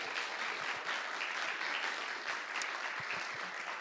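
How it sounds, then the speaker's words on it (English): An audience at a talk applauds its speakers, a dense, even wash of many hands clapping together for a few seconds at moderate volume. "please give a round of applause for our speakers"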